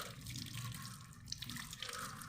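Hands are rinsed under a running tap during handwashing, a steady close stream of splashing water with small irregular drips and splatters throughout.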